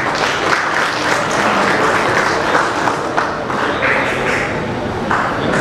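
Loud, steady applause from a crowd at a Mumbai community felicitation event welcoming a mimicry artist, dense clapping sustained throughout with no break.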